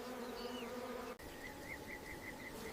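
A continuous, steady hum of bees buzzing at a wild bee colony in the African bush. The buzzing is moderately quiet and droning, with a brief dropout partway through and no voices.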